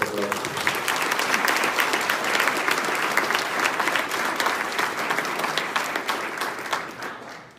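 Applause from a conference audience honoring a speaker on sloths at a dinosaur-themed event, sustained dense clapping for several seconds that tapers off at the end.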